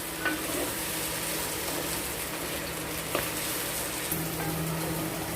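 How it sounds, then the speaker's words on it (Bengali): Chopped onion and whole garlic cloves fry in chicken fat in a clay pan, producing a steady hissing sizzle throughout with a few light stirring taps. "পেঁয়াজটা প্রায় আমাদের হয়ে এসছে, আর একটু আমরা ভেজে নেব"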